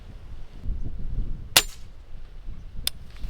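Two sharp suppressed reports from a Rossi Brawler firing 300 Blackout subsonic ammunition, each a short crack over a low outdoor rumble, the first louder than the second, spaced about a second apart.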